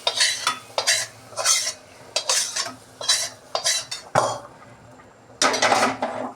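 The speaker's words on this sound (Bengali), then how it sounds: "এবার আমি হাঁড়ির খিচুড়িটা নাড়াচাড়া দিয়ে দেখব কতটা ফুটেছে" A spoon scrapes and stirs panchmisali khichuri in a cooking pot in quick, rhythmic bursts of clinking strokes with short pauses between, close and clear.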